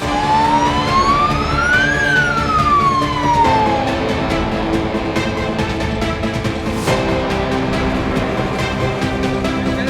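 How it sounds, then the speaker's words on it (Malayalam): An ambulance siren wails up and down once, loud and close, in Nilambur market amid heavy rain, then fades into the steady rumble of traffic and engines. "ആംബുലൻസിന്റെ സൈറൻ നിലമ്പൂർ അങ്ങാടിയിൽ അസ്വാഭാവികത ഉണ്ടാക്കിയില്ല"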